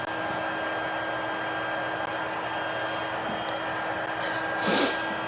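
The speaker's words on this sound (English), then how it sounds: "I'm letting my heat tool get nice and hot first." An electric heat tool blows hot air in a steady, even whoosh with a faint tonal hum, running alone throughout with a slight swell near the end.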